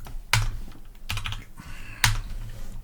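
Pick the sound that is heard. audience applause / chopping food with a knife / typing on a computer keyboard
typing on a computer keyboard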